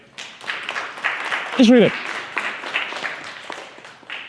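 An audience gives a round of applause at a public speaking session, a short burst of clapping that runs under talk from the people in the room.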